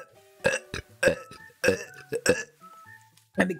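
A long, drawn-out burp broken into a series of loud, voiced gulping belches, close to the mic, each burst separated by short pauses.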